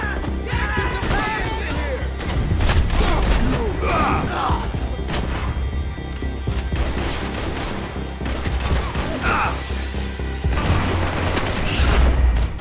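Gunfire rattles through Max Payne 3 in repeated close, loud bursts and single shots, with booming impacts and mechanical clatter between volleys, while a voice speaks briefly.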